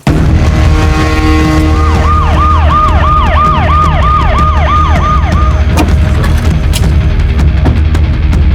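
A loud ambulance siren wails in a rapid, repeating rise-and-fall pattern, close by, over a low engine rumble.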